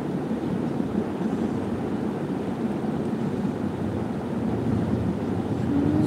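A strong, cold wind blows steadily outdoors during rainy weather, giving a continuous rushing, rumbling noise at an even level throughout with no speech.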